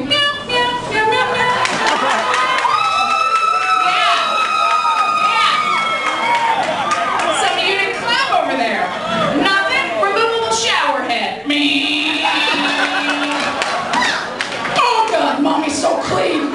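Scattered applause from a comedy show audience at a military camp rises and falls under a loud performer's voice and crowd cheers.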